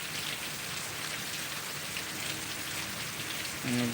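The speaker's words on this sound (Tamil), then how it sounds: "இந்த மழை வந்துட்டு நம்மளை புலம்ப விட்டுருச்சே" Heavy rain pours down steadily in a rural farm setting, a dense, even hiss of drops striking surfaces, with a short low tonal sound near the end.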